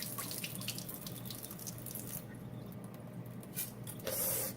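Tap water runs steadily into a container in a kitchen, a constant hissing splash that brightens and grows louder near the end as the vessel fills, with no talking.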